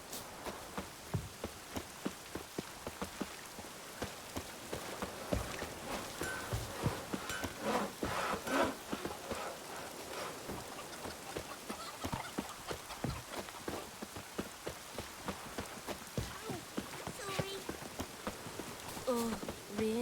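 Steady rain falling in The Witcher 3, a constant soft patter with scattered drips and a faint clip-clop of hooves mixed in, fairly quiet throughout with no clear speech.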